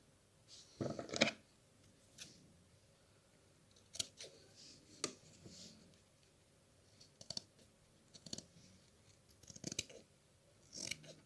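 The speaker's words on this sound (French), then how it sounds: "Nous allons retirer l'excédent de tissu et couper au niveau de la pointe." Scissors trimming the excess fabric off a sewn reusable wipe, quiet close snips scattered irregularly, with soft handling clicks between them and no speech.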